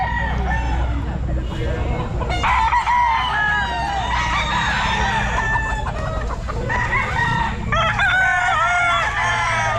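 Dome gamefowl roosters crowing and clucking at a busy pet market, several loud, repeated crows rising over a steady background of crowd noise and low hum, with voices murmuring throughout.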